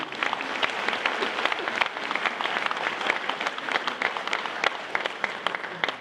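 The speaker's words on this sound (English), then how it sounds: "Please give them a round of applause." Audience applauding a campaign team at a fundraiser speech, a dense, steady run of many hands clapping that holds at an even level for the whole stretch, with no voice over it.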